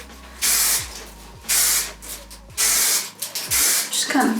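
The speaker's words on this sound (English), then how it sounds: "And then I'm gonna spray with some hairspray." Hairspray is sprayed onto freshly curled hair in four short, close hissing bursts at an even rhythm. Faint clicks of the nozzle and brief rustling fall between the bursts.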